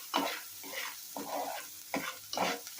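Onions frying in a pan for egg curry, stirred in short bursts of scraping and rustling over a soft continuous sizzle, close and fairly quiet.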